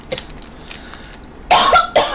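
Two sharp, close coughs from a person with a dry throat, following a stretch of quieter breathy sounds.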